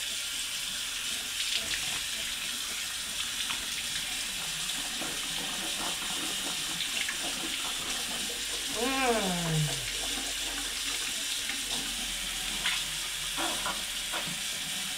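Water runs steadily from a tap, a continuous close hiss and splash filling the whole stretch, with a faint brief squeak partway through.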